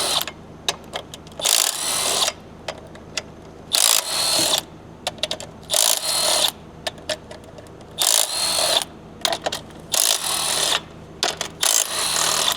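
A powered 8 mm socket driver backs intake bolts out of a Ford 6.7 diesel: repeated loud whirring bursts of about a second each, separated by short pauses, close up and steady.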